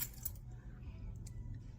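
A bunch of keys jangles faintly in two brief jingles over a low background rumble.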